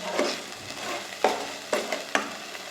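A spoon stirs a spice mix with sugar and a spoonful of sour yogurt in a pan, close by. Soft wet scraping runs throughout, with a few sharper knocks of the spoon against the pan and no voices.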